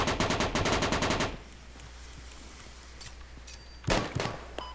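Heavy machine gun fire in the military video game Project Reality: a loud, rapid burst of a dozen or so close shots, then a low hum and scattered distant pops, and a second short burst near the end.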